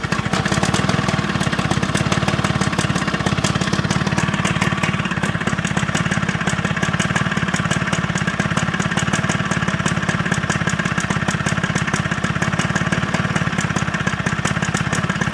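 A lawnmower engine idles steadily and loud throughout, a continuous rough mechanical drone with rapid even firing pulses and no speech over it.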